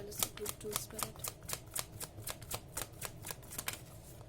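Tarot cards are riffled and shuffled by hand in a steady, crisp rhythm of quick flicks and snaps, close and clear, continuing evenly throughout.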